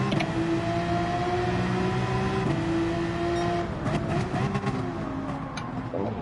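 Group 3 race car engine in Gran Turismo 7, a steady loud high-pitched drone holding near-constant revs with slight pitch dips and shifts toward the end, alone without talk.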